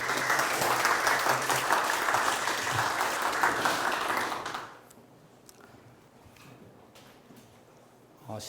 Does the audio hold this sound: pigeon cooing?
no